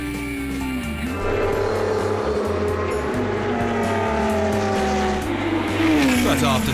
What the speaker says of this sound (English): Off the start, the driver of the Lola T298 BMW from 1979 gets the better of the two marches of Britain's Doug Hart and Paul Knapfield.